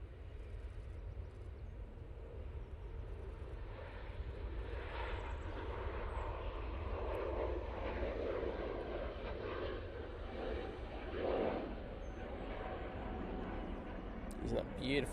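A Lufthansa City Airbus A320neo departs Manchester Airport for Munich, its jet engines a broad, steady roar heard from a distance for the whole stretch, with faint voices of plane spotters beneath.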